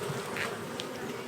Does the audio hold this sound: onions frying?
no